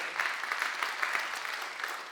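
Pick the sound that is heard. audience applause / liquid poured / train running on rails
audience applause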